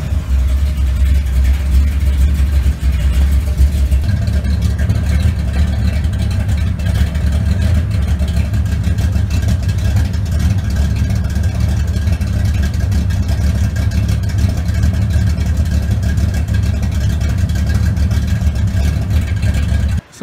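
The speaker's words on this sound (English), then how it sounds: "So we're going to start this car up." Car engine with a GM one-wire alternator running loudly and steadily close by at a rough idle, a continuous low rumble lasting throughout before cutting off at the very end.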